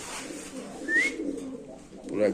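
At a large fancy pigeon farm, choco racer pigeons give a brief, soft coo close by over a quiet, murmuring background.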